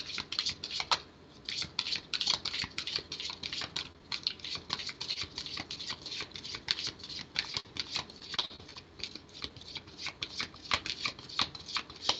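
Tarot cards are shuffled over and over, a soft continuous riffling and flicking patter at close range, fairly quiet.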